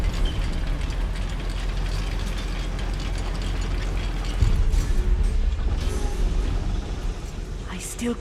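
A lift mechanism in a goblin mine in Hogwarts Legacy grinds and clanks steadily, with ratcheting gears and rumbling pulleys running under continuous low noise, briefly louder past the midpoint.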